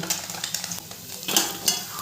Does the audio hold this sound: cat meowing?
no